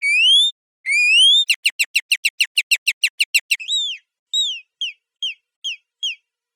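A human voice imitating bird chirps, layered with a second copy pitched a fifth higher: two long rising whistles, a fast even run of about a dozen short chirps, then a few spaced descending chirps, clean and alone.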